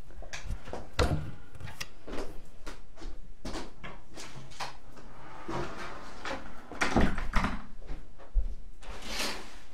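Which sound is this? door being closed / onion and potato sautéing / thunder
door being closed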